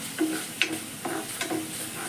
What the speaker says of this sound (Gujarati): ઉપર થોડુંક તેલ નાખી અને મિક્સ કરી નાખી